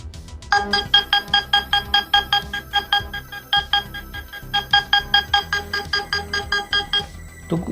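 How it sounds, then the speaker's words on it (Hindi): A Realme C71 smartphone speaker cleaner plays a rapid series of pulsing, buzzy electronic beeps in bursts, loud and near, repeating steadily for several seconds before stopping. "नेक्स्ट है स्पीकर क्लीनर।"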